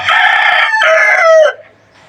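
A gamecock rooster crows once, loud and close, a long two-part call that cuts off sharply, followed by quiet.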